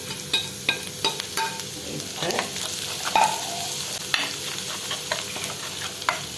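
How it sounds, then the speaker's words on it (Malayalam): Ground ginger and onion frying in hot oil with popped mustard seeds for Kerala-style injikkoottu, a steady close sizzle broken by repeated sharp scraping stirs, with no talk. "കടുക് പൊട്ടിയിട്ടുണ്ട് അതിലേക്ക് ഈ പൊടിച്ചു വച്ചിരിക്കുന്ന ഈ ഇഞ്ചിയും സവോളയും"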